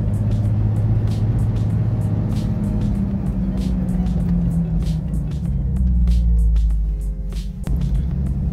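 A Jeep Wrangler TJ on 35-inch tires climbs an incline in second gear, its engine droning steadily and close with slowly shifting pitch under the cabin, while someone talks over it.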